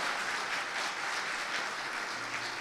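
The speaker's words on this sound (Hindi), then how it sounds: "जोरदार तालियां।" Steady audience applause fills the space, a dense wash of many hands clapping at an even level with no voices on top.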